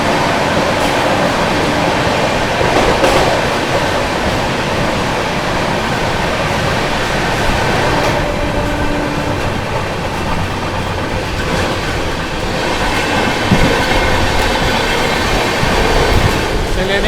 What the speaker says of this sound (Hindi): यहाँ गजब की रफ्तार में स्किप कर रहे हैं भाई।